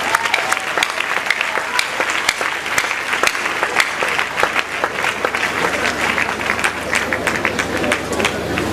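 A large audience at a Nigerian gospel comedy show claps steadily for a comedian, a dense, continuous wash of applause with scattered sharp claps and faint background voices.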